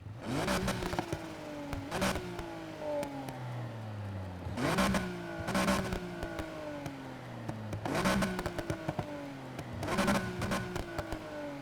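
A car with an aggressive exhaust in Need for Speed Heat revs up repeatedly, each rise climbing in pitch before a sharp pop and drop, four bursts in a steady cycle, loud and close.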